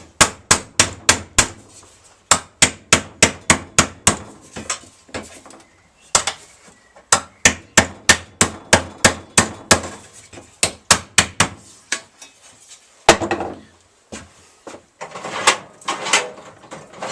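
Sharp metallic blows from the sharp edge of a hammer strike sheet metal for a Harley-Davidson air filter cover in quick rhythmic runs, close and loud, with short pauses between the bursts of strikes.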